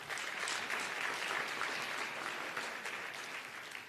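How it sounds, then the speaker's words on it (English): Steady crowd applause fills a tourism summit hall, continuous and even for several seconds before easing slightly at the end, with no talking over it. "I think we should give you a big round of applause"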